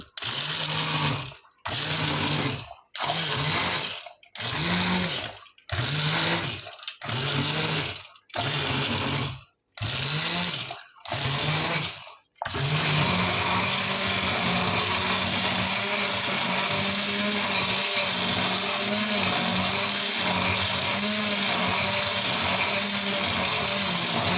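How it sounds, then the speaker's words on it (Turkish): A blender whirs in nine short pulsed bursts, then runs continuously for a long stretch, loud and close, pureeing cooked plums. "Blender'dan geçiriyorum."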